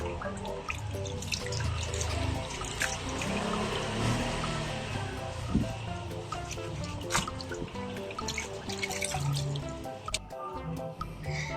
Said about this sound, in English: while soaking it, you have to rub it to remove the dirt